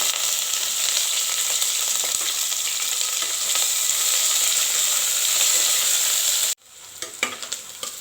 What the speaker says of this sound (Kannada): ಈರುಳ್ಳಿ ಈ ರೀತಿ ಫ್ರೈ ಆದರೆ ಸಾಕು.